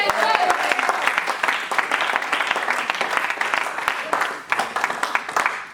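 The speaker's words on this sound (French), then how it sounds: "Est-ce que quelqu'un peut acclamer?" A church congregation bursts into sustained applause and clapping, dense and continuous for several seconds with scattered cheers mixed in.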